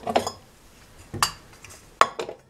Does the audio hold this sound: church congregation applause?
no